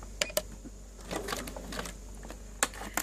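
A sewing machine back stitching a water-resistant phone pouch, giving a few sharp mechanical clacks and short whirring bursts at close range with pauses between, and no talk.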